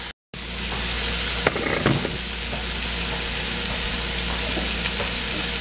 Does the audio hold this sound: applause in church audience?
no